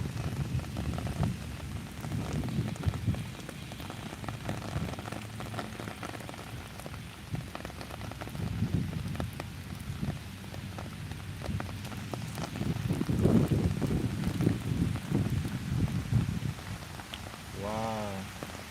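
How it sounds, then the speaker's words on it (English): Heavy rain pours steadily on an East New York street during a morning walk, a dense continuous wash that swells louder midway, with brief faint voice-like sounds near the end. "the rain started to get heavy"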